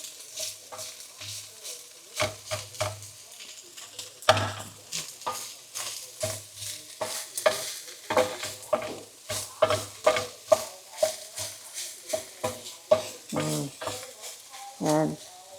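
Onion sizzles steadily in a hot pan while a utensil scrapes and taps through it in quick, irregular strokes. The sound is close and continuous, with several sharper clacks against the pan.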